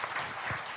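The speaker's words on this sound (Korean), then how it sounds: "하나님께 영광 돌리는 박수 하십시다." Church congregation applauding during a Bible revival service, brief, soft and fairly distant clapping.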